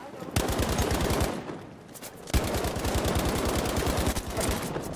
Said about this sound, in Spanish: Me está disparando.